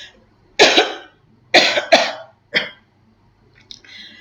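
A workshop presenter coughs and clears the throat in four close, harsh bursts, followed by a faint breathy sound, with no talk over them.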